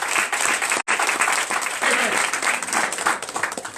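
A church congregation in Comè, Benin applauds and cheers for Jesus, a dense, steady wave of clapping with a brief break near the start, loud and continuous throughout.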